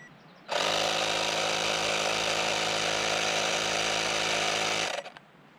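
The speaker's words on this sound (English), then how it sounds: "That sounds very similar to the other high-end portable air compressors that I have." A Denvix portable tire inflator air compressor switches on and runs with a loud, steady, buzzing mechanical drone for about four and a half seconds, then cuts off abruptly.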